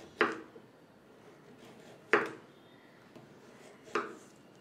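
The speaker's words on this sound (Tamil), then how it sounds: "இப்போ நம்ம ஸ்மால் டைசஸாக நம்ம கட் பண்ணுறோம்" A knife cuts carrots into small dice on a board, giving three sharp, isolated chops about two seconds apart, close and clear over quiet room tone.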